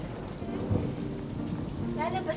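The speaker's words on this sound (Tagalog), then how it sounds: "Tingnan mo, ang lakas ng kidlat." Thunder rumbles continuously through steady heavy rain in a storm with lightning, a dense, loud wash of low rolling booms and rain hiss with no pauses.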